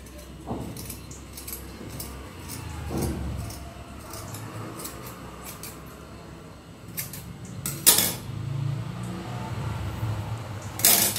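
Scissors snip through woollen thread in several short, crisp metallic cuts spaced irregularly, fairly close but soft over a quiet background.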